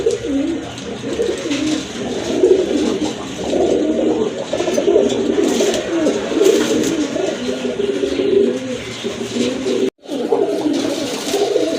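Several Giribaz pigeons coo repeatedly in low, throaty murmurs, close by and overlapping, with a brief drop-out near the end.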